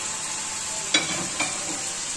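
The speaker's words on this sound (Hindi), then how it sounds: "अब इसमें प्याज डालेंगे हम" Onions frying in hot oil in a pan, a steady bright sizzle throughout with two brief louder bursts of crackle as ingredients stir, close and continuous with no talking.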